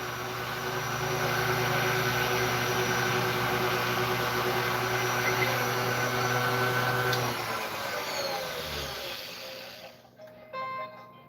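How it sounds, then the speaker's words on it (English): A steady mechanical hum and rumble of a running dryer drones for several seconds, then winds down and stops, leaving faint clicks. "That better be my fucking dryer."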